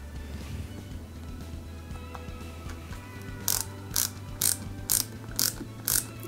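Screwdriver driving flat-head screws into a Peugeot 205 GTI 1.9 scale model, heard as six quiet, evenly spaced ratcheting clicks near the end over a faint background hum.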